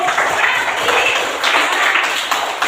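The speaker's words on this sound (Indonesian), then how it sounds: "Tepuk tangan dulu." Children's clapping in a Christian religious education class, a dense, steady patter of many small hands sustained throughout, fairly close and lively.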